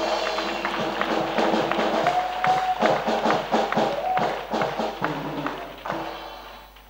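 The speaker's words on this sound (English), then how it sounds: "Oui, acclame, acclame. Yes," A church congregation at an evangelistic gathering claps in loose, irregular bursts of thuds and slaps, with a voice calling out over the room.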